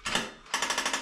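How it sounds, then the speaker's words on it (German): Power drill with a 10 mm bit boring pilot holes into a floor while fitting a Grohe wall-hung toilet frame; two loud, close grinding bursts, the second with a rapid hammering pulse. "Jetzt kann ich das Ganze hier wieder runterheben und kann meine beiden Löcher da vorbohren."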